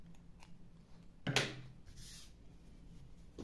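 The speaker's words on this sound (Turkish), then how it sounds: "Dışarıda kalan ipi kesiyorum." Scissors snip through leftover yarn at the end of a crocheted willow-leaf motif: a single short, crisp cut near the middle of an otherwise quiet indoor moment.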